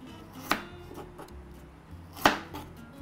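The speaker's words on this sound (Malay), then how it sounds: "Ini potong halus sikit je sebab ini susah kalau di blender" A knife chops galangal on a cutting board, two sharp distinct chops about two seconds apart and a few fainter taps between, close and without talk.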